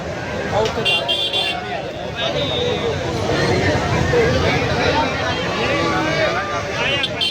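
A dense crowd at a Punjabi fair, Mata Nehra Wali mela, fills the air with continuous babble of many voices close around, with faint traffic noise mixed in.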